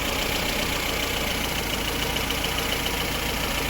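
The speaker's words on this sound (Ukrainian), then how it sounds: "Ось так працює наш моторчик тепер" Rebuilt engine of a VAZ 2108 car idling steadily, a loud continuous even hum with no talking over it.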